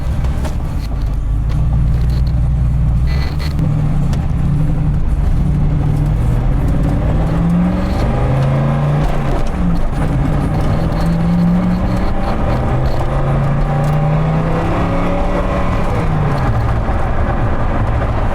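A Mosler MT900S with a 750hp twin-turbo LS7 engine runs loudly and steadily close by, its pitch rising and falling as it revs, with a rumbling, rough background throughout.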